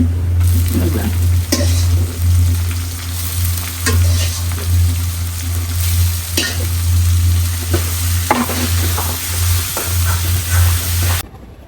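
Fresh eggplant frying in a pan gives a steady, close sizzle with a low hum beneath it, broken by occasional stirring clicks and scrapes for about eleven seconds, then stopping abruptly.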